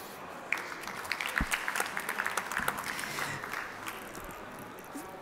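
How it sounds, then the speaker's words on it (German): A conference audience at a panel on future mobility claps for a guest joining virtually, a soft, sustained round of applause with scattered individual claps, fairly distant. "Und das ist Ihr Applaus, den Sie trotzdem bekommen."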